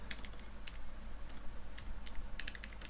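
Close computer keyboard typing in short irregular bursts of soft key clicks while Python code is written, over a low steady hum.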